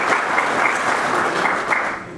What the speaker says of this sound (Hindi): ताली बजाइए उनको लिए जो वो चला रहे हैं